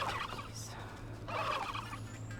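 Turkeys gobbling in the video game Wytchwood, two bursts of rapid warbling calls over a steady low hum, fairly close and clear.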